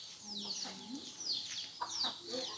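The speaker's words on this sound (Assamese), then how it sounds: "সৰু সৰু পোৱালি মুৰ্গীৰ" Small baby chicks on a farm with many areca nut trees, cheeping and clucking at moderate distance in a soft, irregular chatter.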